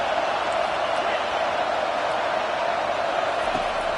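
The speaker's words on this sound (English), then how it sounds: "Listen to the crowd energy here in the early going" Dense roar of a college football stadium crowd at a Notre Dame game, a continuous loud wash of cheering and noise with no breaks, a commentator's voice partly under it.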